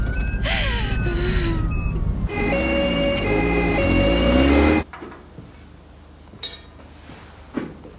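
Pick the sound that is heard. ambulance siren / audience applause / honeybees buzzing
ambulance siren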